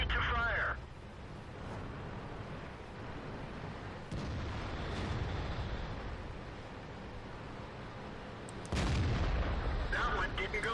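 Tank gun fire from an M24 Chaffee in World of Tanks comes as three heavy booming blasts spaced a few seconds apart, over constant battle rumble with crew radio chatter.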